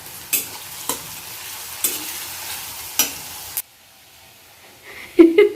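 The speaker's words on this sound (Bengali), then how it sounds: "এখন পেঁয়াজটা ভাজা ভাজা করব" Chopped onions frying in oil in a kadai, a low sizzle broken by several sharp clacks of a spatula stirring, then a brief quiet before the sizzling and scraping pick up again.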